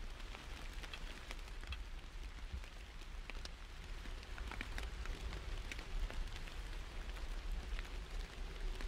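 Steady video game rain pattering on leaves and ground all around in woods, a dense, even hiss with scattered droplet taps and no voices.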